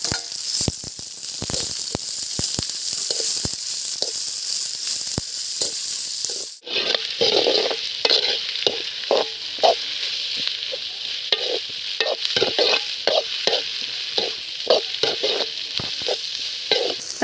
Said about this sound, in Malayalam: ഇനി സവോളയൊക്കെ നന്നായിട്ട് വഴറ്റിയെടുക്കണം നമുക്ക്.